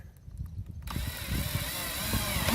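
Small screws are driven into a wall to hold a winter faucet cover in place, a dense whirring drill-like drone that runs continuously for over two seconds after a brief quieter start, close up and steady.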